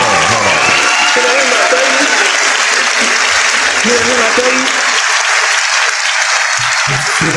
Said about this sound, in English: I just want to give you a round of applause, real quick, man.